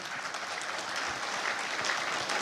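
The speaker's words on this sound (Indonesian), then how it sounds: "Kita beri tepuk tangan buat rakyat Indonesia." An audience at a political party forum in Indonesia claps in sustained, even applause, a dense wash of many hands that carries on steadily throughout.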